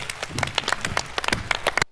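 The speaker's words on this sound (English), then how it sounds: "Give him some round of applause, please" Audience applauds a humanoid robot's dance at a talk event, a dense burst of close, bright hand claps rising and falling for about two seconds with no voices over it.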